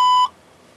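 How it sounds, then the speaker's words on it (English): A single short, clear electronic tone sounds, then cuts off into near silence. "Please leave a message after the beep."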